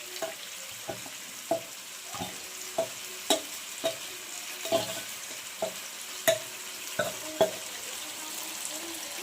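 Potatoes and leftover marinade spices frying for chicken biryani, stirred with a utensil: a sizzling bed under a regular series of distinct scraping, knocking strokes against the pan, close and fairly loud.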